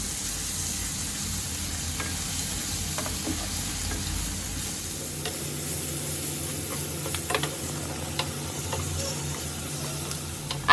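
Spice paste sautéing in a pan for Khandeshi brinjal bharit gives a steady, close sizzle and hiss that runs the whole time, with a few soft scrapes and taps of stirring near the end.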